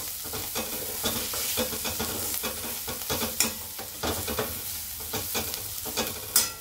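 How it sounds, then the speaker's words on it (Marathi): Roasted peanuts and coriander are stirred and sautéed in a hot pan for ridge gourd chutney. A rhythmic spatula scrapes over a continuous sizzle, close and fairly loud, with no talking. "भाजलेले शेंगदाणे, कोथिंबीर टाकू। याला चांगलं परतून घेऊ अजून।"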